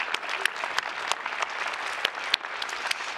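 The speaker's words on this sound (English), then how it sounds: "Let's have a big round of applause for Hot Mama Salsa." Audience applause at a leadership summit, a sustained round of clapping from a seated crowd with a few sharper, louder claps standing out over the steady patter.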